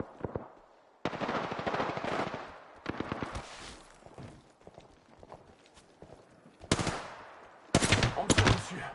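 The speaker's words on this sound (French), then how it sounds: "On me tire dessus." Rapid gunfire in Apex Legends comes in several loud, dense bursts of automatic shots, with quieter game sounds and gaps between them.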